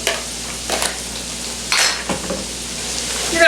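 Carrots, celery and minced garlic sauté in a pan with a steady soft sizzle, broken by a few scraping stirs of a utensil against the pan.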